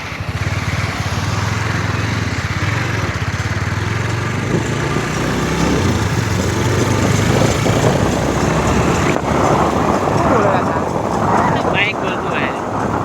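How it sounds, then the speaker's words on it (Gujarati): Motorcycle engine droning steadily while being ridden on the way to a village religious gathering (ramen) at Balvatpura, Poshina, with wind rush throughout and people talking over the ride. "બાઇક બોલતું હોય"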